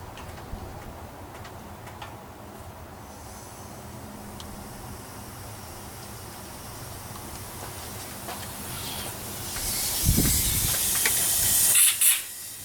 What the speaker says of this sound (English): I'm going to blow the hole out with a little compressed air just to clean all the junk and debris out of it